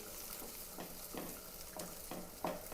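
Sardines (mathi) frying in a pan, a steady close sizzle with periodic brighter bursts as the fish is stirred or turned, no voices present.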